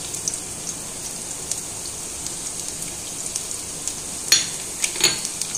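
Chopped garlic and ginger frying in half-hot oil, a soft, even sizzle with scattered crackles and a couple of sharper spits, close by and with no talk over it.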